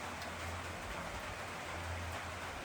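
Rain falling steadily on a hiking trail, a continuous soft hiss of drops with faint low rumbles underneath and no voices.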